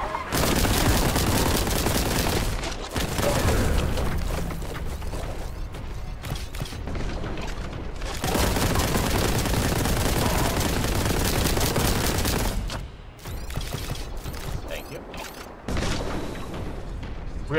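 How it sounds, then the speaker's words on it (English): Bolt gun fire in Warhammer 40,000: Boltgun: loud, sustained bursts of rapid heavy shots with booming impacts, broken by a few short pauses, no talk over it. "Let the bolt gun bullets fly!"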